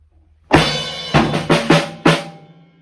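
A drum fill starts with a crash and bass drum hit, then quick high tom and snare strokes, ending on another loud crash, played once up close without talk.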